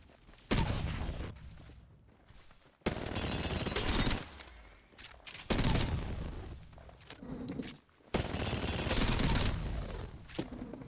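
Gunfire in Apex Legends comes in four long, loud bursts of rapid shots, each separated by short pauses, close and dense throughout with no speech over it.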